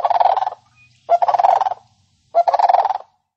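Cranes call in three loud, rasping, gobbling bursts, each about half a second to a second long, separated by short pauses and heard alone with no talk.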